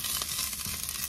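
Ginger sizzles briefly in hot oil in a pan. The crackle is close and steady, with no voices.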